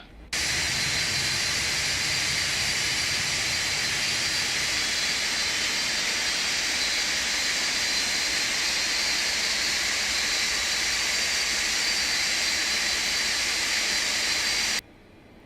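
A loud, steady jet engine roar with a high whine on top as a Boeing 747-200 engine starts in a flight simulator game, holding constant for several seconds before cutting off abruptly.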